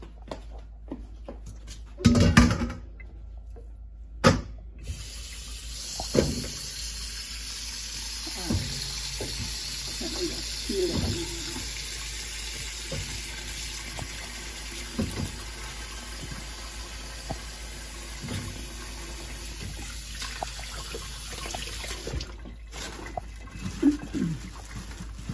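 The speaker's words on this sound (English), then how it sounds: "going to wash the yam and put it in" Yam for a Jamaican goat head soup is washed under a running tap, giving a steady broadband rush of water into a sink that lasts throughout, with a few brief knocks and splashes on top.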